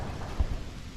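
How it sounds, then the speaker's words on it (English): Rain falls in a dull, steady wash on a tractor shed or cab, and a low thunder rumble rises briefly in the middle, all fairly faint with no voices. "it's raining"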